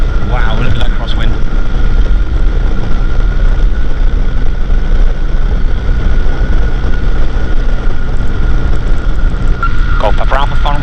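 A flexwing microlight aircraft's engine drones loud and constant in flight during a crosswind landing approach, with brief radio-like speech bursts near the start and end.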